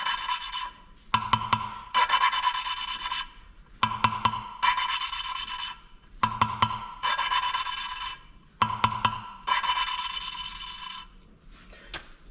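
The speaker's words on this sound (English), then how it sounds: "you might be able to hear it grinding, and then it sort of gets finer" Grinding paste is lapped by hand against the valve seats of a McCormack Deering F14 cylinder head, giving five close, gritty rasping strokes in a steady back-and-forth rhythm, each ending in a short scrape, with no talking.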